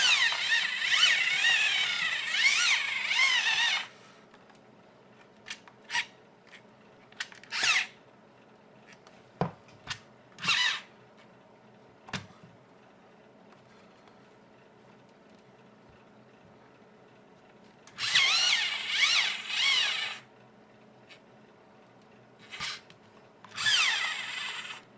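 Amazon Basics electric pencil sharpener grinding a pencil in a few loud bursts of whirring, with short clicks and quiet gaps between them, heard up close with no talking.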